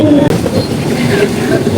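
A train rumbles loudly and steadily on the tracks overhead, heard from beneath them at Taling Chan floating market in Bangkok, a continuous heavy rolling roar with faint metallic squeals, with no pause throughout.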